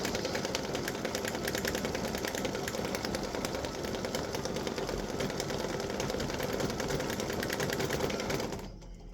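A sewing machine stitches the stems of flowers on a fall wreath design, running as a steady, continuous fast mechanical whir that stays even throughout and cuts off right at the end.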